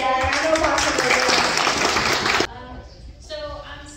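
A conference audience applauds a guest speaker at a women's event, with dense clapping for about two and a half seconds before it cuts off abruptly, followed by a speaking voice.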